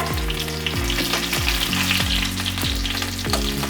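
Shallots frying in hot oil with mustard seeds in a pan, a loud steady sizzle and crackle running throughout, with a low repeating hum underneath.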